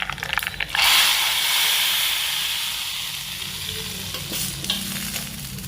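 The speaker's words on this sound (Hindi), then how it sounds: "ये सब डालकर हम दाल को लगाएंगे तड़का" Loud, steady sizzling of spices tempering in hot oil for dal, a bright hissing crackle that swells early and slowly settles, with some stirring clatter.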